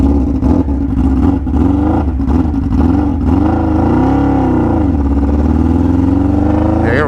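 A 600cc go-kart engine, not run since 2003, pulling in first gear: a loud, close engine drone whose pitch climbs and dips as the throttle changes, with a rev rise near the end and no talking.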